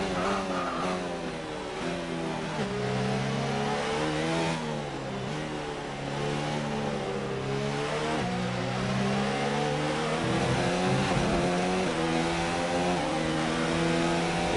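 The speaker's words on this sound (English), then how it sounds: "You can probably hear the car there revving a bit on the curb" An F1 race car in the F1 2019 video game revs hard over a curb while struggling for traction, its high engine note rising and falling continuously, loud and close throughout with no talk.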